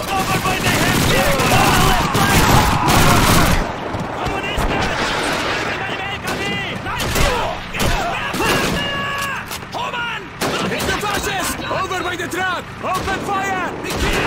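Gunfire in Call of Duty 2's Winter War mission: dense rifle and machine-gun fire with booming explosions throughout, loud and continuous, with soldiers shouting over the battle.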